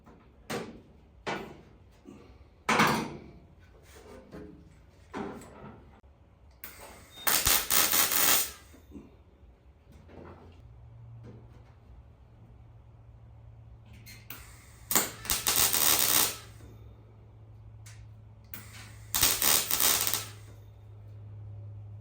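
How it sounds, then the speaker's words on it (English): Welding repair on an XA Coupe car's plenum: three separate bursts of harsh, crackling welding, each lasting one to two seconds, with scattered metallic clanks and handling knocks between them and a low steady hum underneath. "Now just got to start welding."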